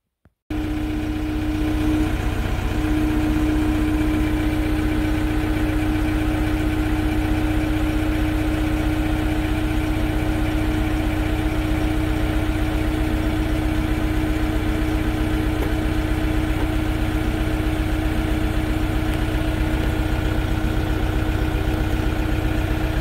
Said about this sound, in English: There you have it, TYM 654. It's the new tractor we bought.